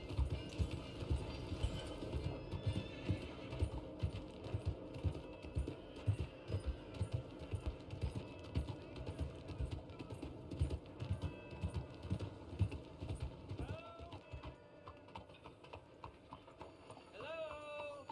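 Rhythmic horse hooves in the video game Red Dead Redemption 2 clip-clop steadily at a trotting pace, fairly close, with soft ambient sound underneath and a voice briefly heard.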